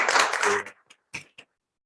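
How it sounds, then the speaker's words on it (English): Brief round of applause at a state commission meeting, a short burst of clapping from the audience that fades quickly into a few scattered claps. "Can we get universities a round of applause"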